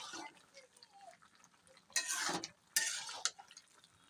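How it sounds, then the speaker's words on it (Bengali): A quiet stretch of soft rustling gives way to two brief bursts of scraping and stirring as spinach and mixed vegetables are turned in a cooking pot, close but low in level. "শাকগুলো দেওয়ার পর পুনরায় ঢাকনাটা খুলে একটু নেড়ে চেড়ে দিই"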